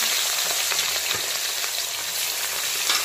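Salt-and-turmeric-coated katla fish frying in smoking-hot mustard oil, a dense, loud, continuous sizzle and crackle with no voices.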